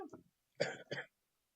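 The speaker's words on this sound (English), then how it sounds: "Sorry about the coughing already." Two short, harsh coughs close to the mic, a quick pair after a brief earlier throaty sound, then silence.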